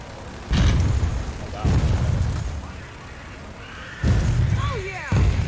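Frag grenade detonations in the Gears of War 4 video game, several heavy booming bursts in sequence, each with a loud low thump and rumbling decay, mixed with game effects and voices talking around them.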